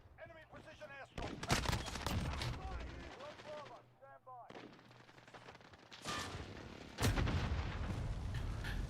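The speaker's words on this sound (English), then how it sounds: "Enemy precision airstrike." Precision airstrike explosions in Modern Warfare, a series of loud blasts and bursts of gunfire coming in waves, the heaviest after a brief lull near the end.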